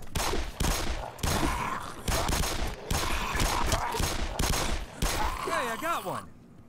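Rapid bursts of automatic gunfire in the video game Black Mesa come in several loud volleys separated by brief pauses, followed by a whistling, warbling game sound near the end before sudden quiet.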